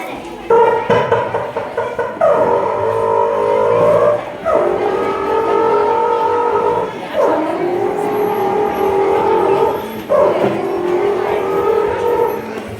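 A human voice mimicking an auto rickshaw engine, producing four drawn-out buzzing, revving phrases separated by brief breaks, loud and close with no other sounds around it.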